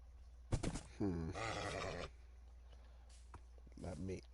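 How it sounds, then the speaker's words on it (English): A horse in the Minecraft video game neighs in short harmonic calls, with a longer drawn-out whinny in the middle and another brief call near the end, mixed with faint game ambience and brief vocal sounds. "Let me ride. That's another horse."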